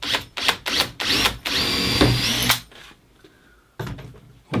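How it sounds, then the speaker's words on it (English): Power drill boring small access holes through wood with a small, neat bit guided by a jig: several short bursts of whining motor followed by a longer sustained run, close and loud, then a quiet pause before another brief burst. "flip this over and drill the access holes"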